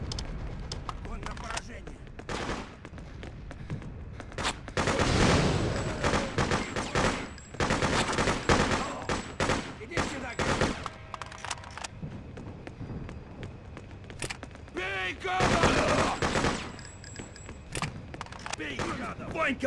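Sustained gunfire in the video game Freedom Fighters, with loud bursts of automatic fire and overlapping shots in waves, mixed with battle noise and shouting voices.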